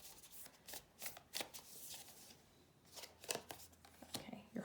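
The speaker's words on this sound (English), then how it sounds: "We're going to pull a Moonology card." Moonology oracle cards are shuffled in a series of quick riffling, flicking bursts, fairly close and moderately quiet, with no talking over them.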